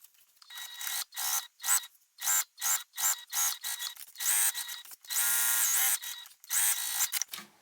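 A sewing machine top stitching and basting a fabric bag pocket, with repeated bursts of high whirring stitching separated by brief pauses and one longer steady run, close and with no talk.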